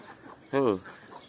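Native farm chickens among ducks and livestock, a single short cluck up close rising out of quiet outdoor background.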